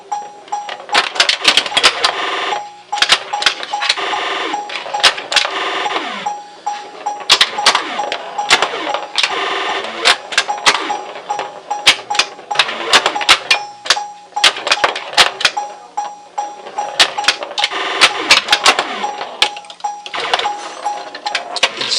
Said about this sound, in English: by getting those three drop targets over there on the left, I've lit the pop bumpers up at the top